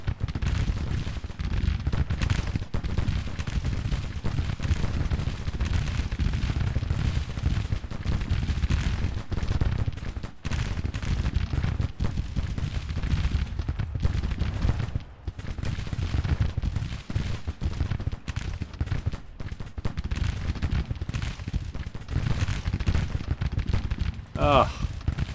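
Civil War infantry volleys in Grand Tactician form a steady, distant rumble of massed musket fire and crackling shots running throughout, dense and continuous rather than sharp, with a voice talking over it.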